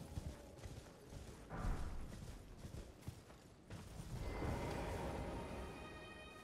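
Horse hooves clip-clopping in the Elden Ring video game, a steady run of fairly close footfalls with mechanical creaks and a louder swell near the end; no talking over it.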